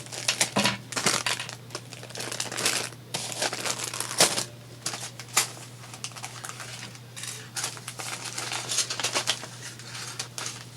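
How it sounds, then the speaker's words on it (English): A hole is cut in a manila folder for a lapbook, giving close crinkling and rustling of stiff paper in irregular bursts over a steady low hum, with no talk. "Okay, let's cut the hole."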